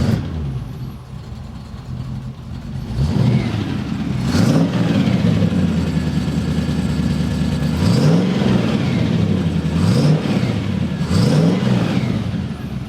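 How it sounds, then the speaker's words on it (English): An MGB GT engine cold-starts and settles into a close, steady idle, then revs up in several quick rising-and-falling blips over the running rumble. "I'm going to start it up so you guys can actually see it and hear it."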